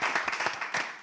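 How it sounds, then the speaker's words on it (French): A small group claps in an indoor class session, a brief burst of dense, irregular hand claps that is fairly close and lively and fades slightly toward the end. "Bien, on applaudit"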